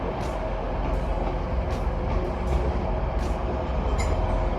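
A British Rail Class 195 train arriving at Manchester Piccadilly, a steady broadband rumble of wheels and engine with faint high squeals recurring throughout, heard alone without talk.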